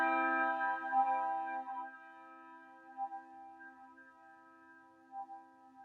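A handbell struck once and swung, its bright ringing tone decaying over several seconds with periodic faint swells as the bell moves through the air, close and alone.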